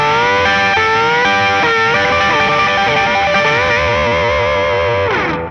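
Distorted electric guitar with chorus and echo effects playing a country-flavoured pentatonic lick, bending notes with a barred pinky, loud and sustained, ending in a brief fading strum, no voice.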